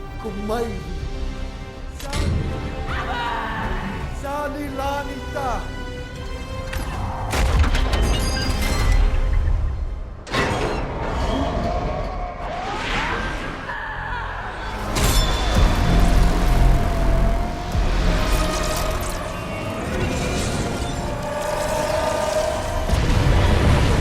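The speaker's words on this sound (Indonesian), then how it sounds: "setelah ledakan itu selesai" A loud explosion in the film Black Adam (2022) booms and rumbles, followed by crackling debris and sustained roaring, with tonal sound effects and voices underneath.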